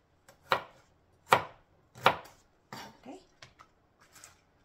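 A kitchen knife chops vegetable pieces on a board for yaki udon, giving three strong, close thuds about a second apart, then several lighter, quicker cuts.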